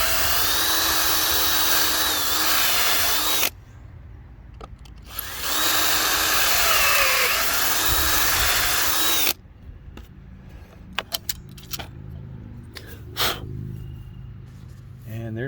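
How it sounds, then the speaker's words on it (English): A power drill drives pocket screws through a Kreg jig while building a wooden frame for a hot tub structure, running in two long loud bursts, then quieter clicks and short taps follow. "so I'm doing the pocket screws right now"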